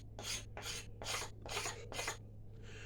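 A steel scraper draws along a black locust wood bow stave in five steady, evenly spaced rasping strokes, close and fairly quiet over a faint low hum.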